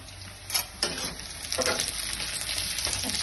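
Chopped green chillies and onion sizzle and fry in hot oil for fried rice, a steady close crackle with occasional stirring scrapes and no talking.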